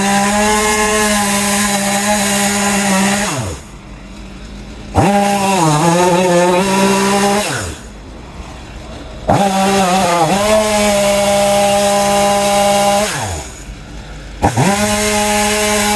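A chainsaw cutting an overhanging tree limb, its engine whining steadily at high pitch, then dropping and revving again in repeated cycles as it bites into the wood, loud and close with no talk.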